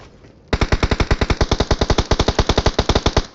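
Rapid automatic gunfire from the BGMI video game rattles out in a fast, evenly spaced burst of loud, sharp shots that starts suddenly and continues without pause.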